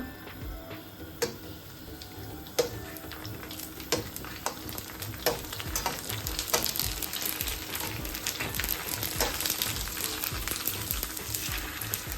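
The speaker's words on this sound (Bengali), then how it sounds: "এখানে সমোসা ভেজে নিচ্ছি এখানে আমি রোল ভেজে নিচ্ছি" Samosas and rolls fry in hot oil with a steady, soft sizzle, dotted with occasional sharp pops and crackles throughout.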